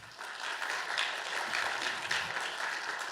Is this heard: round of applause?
yes